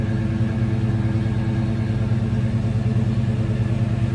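A 1963 Chevrolet Nova convertible street rod idles steadily with a deep, even rumble from its MagnaFlow dual exhaust, continuous and close, no talking.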